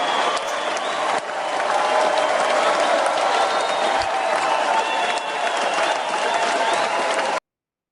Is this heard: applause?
yes